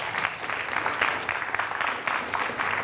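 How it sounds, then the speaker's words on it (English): An audience of students at a school reading competition applauding, a burst of lively clapping with rhythmic surges, loud and close, without speech over it. "Let's give them a big round of applause"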